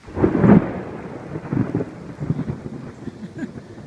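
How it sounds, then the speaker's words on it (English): Thunder rumbles loudly in a thunderstorm, with a strong crack near the start and lower rolling rumbles after, over steady rain. "storm's coming in."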